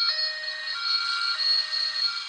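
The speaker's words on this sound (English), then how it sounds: "You might want to turn the siren off." A police car siren wails in a two-tone pattern, alternating high and low pitches at a steady pace, clear and fairly loud with no talk over it.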